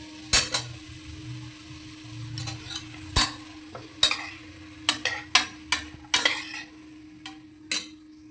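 Cut vegetables sauté in a pan for vegetable biryani. Sparse, sharp spoon strikes against the metal ring out every second or so over a faint, low sizzle, with no speech.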